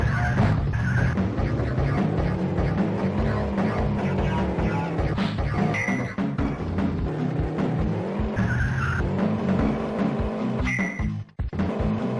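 A car races through the driving section of an Amiga video game, with a steady synthetic engine drone, repeated tire screeches and skids, and occasional impact thuds, all dense and loud throughout.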